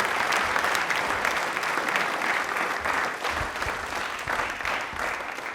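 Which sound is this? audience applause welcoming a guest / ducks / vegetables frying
audience applause welcoming a guest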